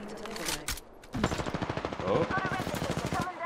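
Rapid automatic gunfire in Apex Legends during a Duos match, a dense rhythmic burst of shots fired straight at the ground to launch upward, loud and close, with a brief voice exclamation over it.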